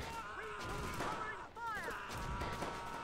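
Heavy gunfire in the WWII strategy game Close Combat: Gateway to Caen, during the Battle of Mouen: a steady, dense wash of battle noise under someone talking, with no clear pause in the firing.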